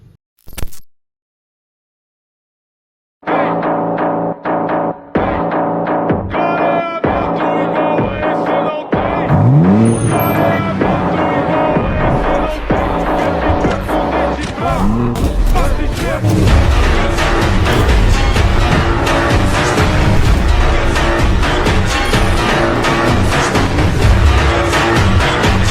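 Heavy road traffic surrounds a car: after a brief silence, a dense, loud mix of engines, horns and passing vehicles fills the rest, with sharp honks and some squeals over a constant rumble.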